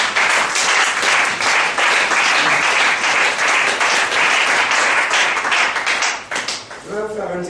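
A church congregation applauding together, a dense, loud, continuous clapping that thins toward the end as a voice begins.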